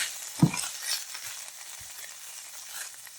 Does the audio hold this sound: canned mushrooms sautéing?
yes